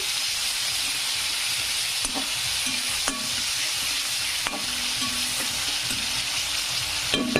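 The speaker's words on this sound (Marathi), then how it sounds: "छानपैकी असं टमाटर टाकून घ्यायचं आणि मस्तपैकी असं तळून घ्यायचं।" Tomatoes frying in a pan for a cabbage dish, giving a loud continuous hissing sizzle close by, punctuated by several sharp spatula clinks and scrapes, with no voices.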